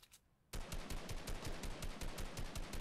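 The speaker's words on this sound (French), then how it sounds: "Il a tiré sa balle de snipe sur Frax" Gunfire in the video game Fortnite, a sniper shot opening into a long, rapid, regular burst of shots that continues to the end, fairly loud and heard without talk.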